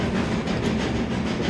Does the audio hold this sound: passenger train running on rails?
yes